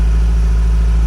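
A 1981 Ferrari 308 GTSi with a 5-speed manual runs steadily at idle nearby, a loud continuous low engine hum with no talk over it.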